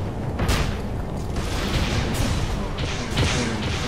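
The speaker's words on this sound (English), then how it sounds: "Grenade!" Grenade explosions in the Tribes Ascend video game, several sharp booming blasts spaced a second or so apart over a dense, noisy game soundscape.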